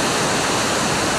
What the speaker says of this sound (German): Wird wahrscheinlich nicht der letzte Wasserfall gewesen sein.